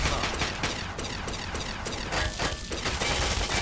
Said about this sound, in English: I'm just going to shoot him twice in the torso.